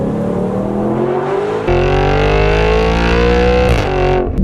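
A 2015 Audi RS5 engine revs loudly and close by, its tone climbing smoothly as the revs rise, jumping to a fuller roar midway, then dropping back off, with no voices over it.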